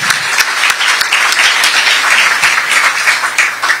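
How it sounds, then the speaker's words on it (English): An audience at a mayoral debate claps and applauds steadily and loudly throughout, dense and close, with no voices over it. "So let's give them a round of applause and a happy birthday."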